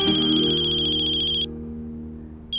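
A phone ringtone plays loud and close as a bright, sustained electronic melody. It cuts off abruptly, then starts again after a short silence, with no speech over it.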